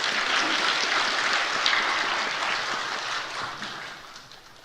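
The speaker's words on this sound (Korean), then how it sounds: "우리 박수로 축하하겠습니다" Steady crowd clapping fills a church service, dense and even, slowly thinning toward the end with no voices over it.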